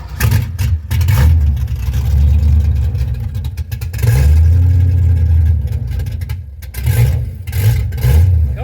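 A Ford Zephyr engine, suspected of a faulty carburetor, revs up in repeated throttle bursts, dropping back toward idle between them. The surges are loud and close, with no talking.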